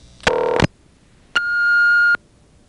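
An answering tone from a telephone number dialed on a 1970s coin pay phone line: a short burst of layered tones, a pause, then a steady single high tone lasting nearly a second, loud and clear with no talk.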